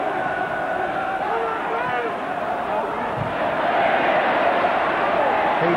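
A dense football crowd roars and chants throughout at an Everton v Liverpool FA Cup match in 1988, with a commentator speaking over the steady wall of noise.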